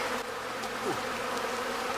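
A swarm of bees buzzes in a continuous, fairly loud drone that holds steady throughout, with no voices.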